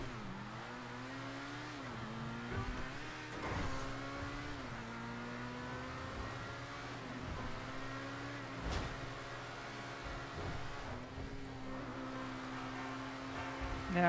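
A car engine in GTA V hums and revs steadily as the car drives, its pitch climbing and then dropping back with each gear change, with a few sharp knocks along the way.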